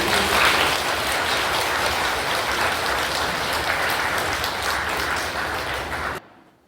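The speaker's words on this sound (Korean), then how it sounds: "큰 박수로 안토니오 신부님." A church congregation in Korea gives a big round of applause, a thick sustained wash of clapping that cuts off abruptly near the end.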